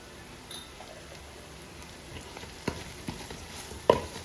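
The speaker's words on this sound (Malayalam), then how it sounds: "ഇനി നമ്മുടെ സവോള നന്നായിട്ട് വഴറ്റിയെടുക്കണം." Onions with a pinch of turmeric sauté in a pan for Kerala-style beef curry, a faint, soft sizzle with a few sharp clicks and scrapes of stirring toward the end.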